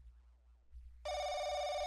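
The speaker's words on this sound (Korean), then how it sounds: "어 전화 왔어요." A telephone bell in The Crooked Man horror game starts abruptly after quiet ambience and rings steadily and loudly, a continuous bright electronic ring with no one talking over it.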